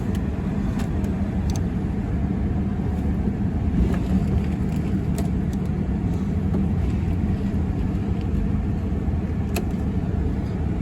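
A Buick Century with 125,000 miles, service engine soon light and low coolant drives along with a continuous low engine and road rumble, steady and fairly close, with no talking over it.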